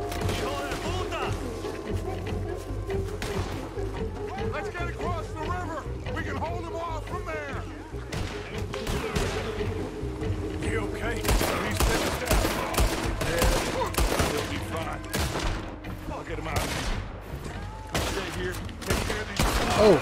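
Revolver shots and scattered gunfire in Red Dead Redemption 2, repeated sharp cracks across the whole stretch, mixed with game sounds and a player talking over the action.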